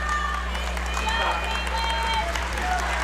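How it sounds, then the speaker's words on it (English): Crowd in a high school girls' basketball gym applauding as a player exits the game, a steady spread of clapping and light cheering under a commentator's voice, with a constant electrical hum in the background. "Nagel exits to a round of applause"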